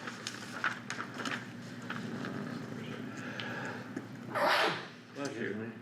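A single sneeze bursts out partway through a county board of supervisors meeting, fairly close and louder than the surrounding room murmur and voices.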